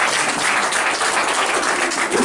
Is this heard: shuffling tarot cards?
no